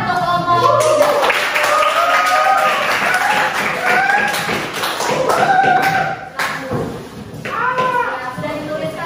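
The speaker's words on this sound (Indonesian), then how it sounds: "berikan tepuk tangan untuk kelompok 3" A classroom group claps for group 3, a sustained patter of applause mixed with overlapping voices and tapping, fairly close and loud.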